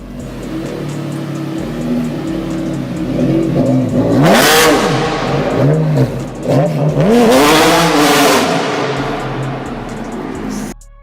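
Mercedes CLK GTR supercar with a 6.9-liter V12 engine making 620 horsepower, revving loudly and close with two rising and falling surges over a steady idle rumble.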